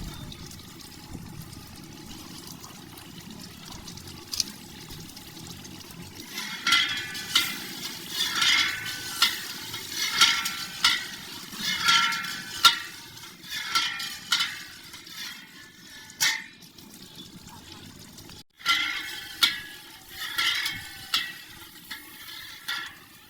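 Chicken with peas, coriander powder and cumin fries in a large deg pot as a spoon stirs it, giving bursts of scraping and sizzling that rise and fall irregularly over a quiet background.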